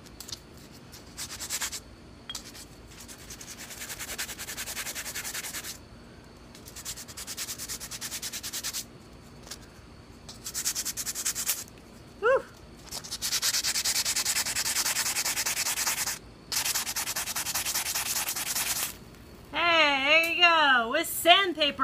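A ferro rod is scraped in repeated bursts against super coarse sandpaper to throw sparks, harsh rasping strokes separated by short pauses, close up, with brief talk between strokes.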